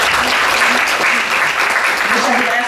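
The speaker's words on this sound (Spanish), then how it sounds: "Quiero pedir por favor un fuerte aplauso para Sofía." An audience at a talk on structural racism breaks into loud, sustained applause, a dense continuous clatter of clapping hands filling the room for the whole stretch.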